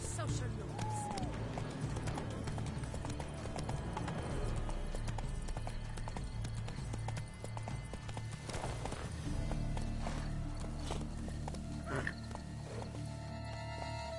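Horse hooves galloping in The Witcher 3 game, a continuous rapid clip-clop rhythm mixed with game music and effects, with voices talking over it and a brief whinny early on.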